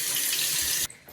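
Warm tap water running during a dog bath: a close, steady rushing stream that cuts off abruptly near the end, leaving a brief quieter trickle.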